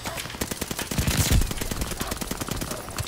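Rapid automatic gunfire from a video game shooter rattles in a dense burst, loudest around the middle.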